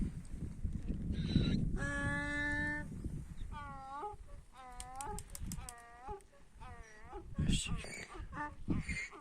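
A donkey brays nearby in repeated see-sawing honks, loud and harmonic, early in the morning before sunrise, with sheep and other farmyard animal sounds and ambient noise around it.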